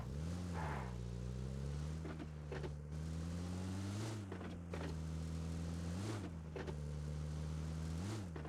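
A car engine in the mobile battle royale game PUBG Mobile hums steadily with a tonal drone that swells in pitch at repeated revs and gear shifts. It runs loud and close, heard alone with no talk over it.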